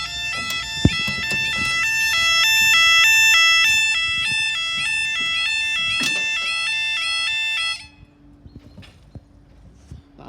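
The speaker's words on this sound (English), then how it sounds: "That alarm's quite rusty." Rail level crossing alarm at Luffenham in Rutland, a rusty-sounding electronic two-tone warble repeating steadily and loudly for several seconds before cutting off, leaving faint outdoor ambience.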